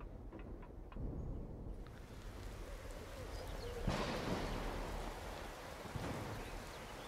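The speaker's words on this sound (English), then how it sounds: "Stay out of the rain." Steady rain falling in the Empyrion Galactic Survival video game, a continuous broadband hiss with a brief louder swell partway through, heard alone without talk.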